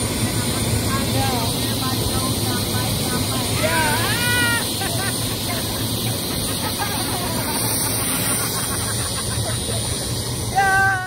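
A helicopter takes off for a sightseeing ride in Brazil, its loud continuous rotor and engine roar filling the whole stretch while passengers talk and call out over it.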